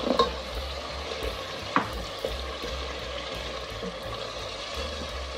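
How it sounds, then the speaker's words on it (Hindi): Potatoes frying with masala and chicken cubes in a pan for methi aloo, a steady sizzle under a low hum, with a few sharp spatula clacks near the start and middle. "आलू को भून लेंगे"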